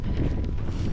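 Strong headwind roars steadily across a cyclist's microphone during an ultracycling ride, a dense, buffeting rumble that fills the clip with gusty surges and no pause.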